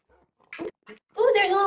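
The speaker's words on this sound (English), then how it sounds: "Ooh, there's a little baby sheep." Baby sheep in Minecraft bleating, a few short separate cries followed by a longer, louder bleat, close and clear with no talk over it.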